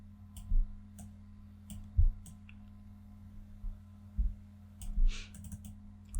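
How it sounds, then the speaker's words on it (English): Computer keyboard keys clicking at a desk, a few sharp, close, isolated taps spaced over several seconds against a quiet hum, with no talking. "Click on enter to accept changes."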